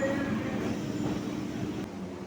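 A commuter train runs along the Budge Budge line in Kolkata, giving a steady rumble of wheels and carriage noise throughout at moderate volume.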